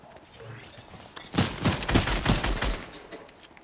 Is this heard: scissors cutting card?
no